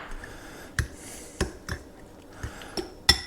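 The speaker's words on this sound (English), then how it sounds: "Give that a good mix" A utensil scrapes and knocks against a bowl while chaffle batter of mackerel, cheese and eggs is stirred, producing sharp, irregular clinks and taps over about three seconds with quiet scraping between them.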